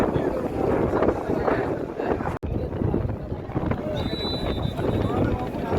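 Passenger river launches racing along a river on the way to the Charmonai Mahfil 2025 gathering, with steady engine and water rush and heavy wind buffeting the microphone throughout.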